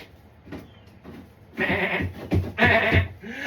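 Sheep bleat on a farm north of Auckland, several loud, close calls stacked in quick succession after a quieter opening, with no talking.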